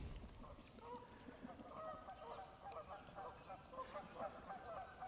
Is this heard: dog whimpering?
no